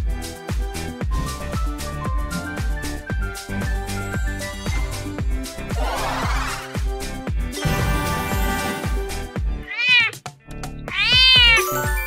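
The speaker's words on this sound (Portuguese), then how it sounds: "É um gato." A domestic cat meows twice, rising and falling cries that ride over a busy, loud backdrop of music in a children's guessing game of animal sounds.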